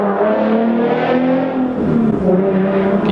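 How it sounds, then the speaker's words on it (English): A Nissan 370Z engine revs with a steady, loud droning exhaust note, pitch dipping briefly midway then rising again, close and continuous with no talk. "it for sure sounded like a 370Z"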